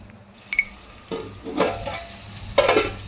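Mutton curry is stirred in a pan with a spoon, giving a few wet, sizzling scrapes and soft clinks up close, separated by short pauses.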